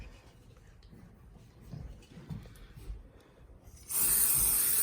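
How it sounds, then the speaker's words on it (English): A loud burst of Apple Guard protectant aerosol spray hisses onto a Louis Vuitton Noe bag near the end, following a stretch of quiet rustling and handling noises. "Let's spray this one more time."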